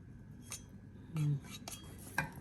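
A spoon mixes cooled melted chocolate into brownie batter in a bowl, making quiet scattered clinks and scrapes against the bowl, soft and close, with a few brief knocks.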